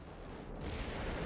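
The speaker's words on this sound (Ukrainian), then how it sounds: "Найпотужніша в авіації США гармата типу «Гатлінг». Вона здатна випустити 70 снарядів на секунду." A-10 Thunderbolt's Gatling-type cannon, rated at about 70 rounds per second, firing as a dense continuous buzzing roar with no gaps, held steady for over a second at moderate distance.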